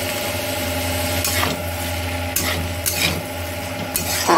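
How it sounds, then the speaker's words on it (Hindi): Rajma beans being stirred into a masala in a pan, with a steady soft sizzle underneath and repeated scraping strokes of a spoon against the pan, close and fairly loud, no talking. "फिर राजमा के साथ इसको हम मिलाएंगे मसालों में राजमा को"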